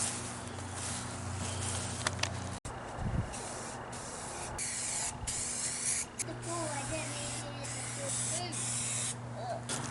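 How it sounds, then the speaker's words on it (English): Spray painting a trailer flat black: a continuous hiss of spray with brief pauses and small handling noises. "So I'll be setting this down and getting to spraying."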